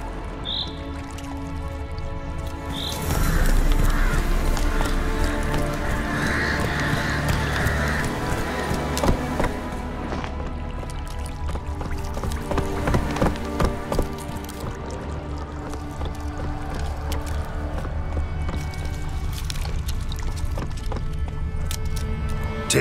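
Geralt's horse Roach in The Witcher 3, with hooves clip-clopping and a neigh amid game music and effects, loud and sustained across the scene.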